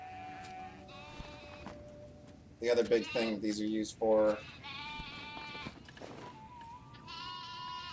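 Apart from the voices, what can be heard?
sheep bleating in video game Black Desert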